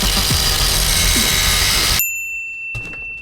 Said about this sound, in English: I'm going to have to grind out the rivets on the inside here.